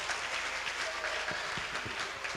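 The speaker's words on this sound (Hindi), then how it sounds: "उनके लिए भरपूर तालियां" A hall audience claps for a guest, a social worker, arriving at a comedy event, a steady wash of applause with a few sharper nearby claps, and some faint voices mixed in.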